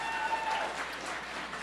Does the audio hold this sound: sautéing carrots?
no